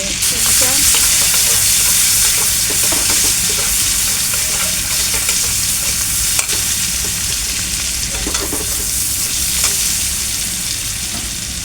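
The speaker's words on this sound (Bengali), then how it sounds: "কড়াইটা বসা দিচ্ছি, তেলটা দিয়ে দিচ্ছি, পেঁয়াজটা দিয়ে দিচ্ছি" Onions hit hot oil in a wok for a koi fish curry, giving a loud, continuous sizzle with scraping stirs and occasional sharp crackles, heard alone without talk.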